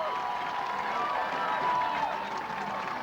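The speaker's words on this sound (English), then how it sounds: "the DeWitt crowd gets loud" The DeWitt home crowd at a high school football game against Haslett roars loudly, a broad, sustained cheer from the stands that swells slightly midway.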